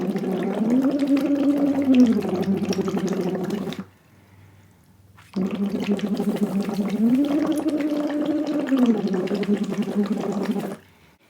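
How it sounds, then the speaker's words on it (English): A voice hums a rising and falling tone while blowing bubbles through a straw into water, producing a buzzy, burbling sound in two long phrases separated by a short silent gap. "So then you simply just vocalize and make bubbles."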